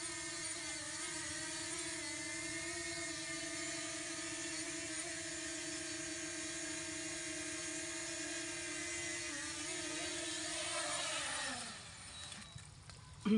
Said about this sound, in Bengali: তো আমরা ড্রোনটাকে নামিয়ে ফেলি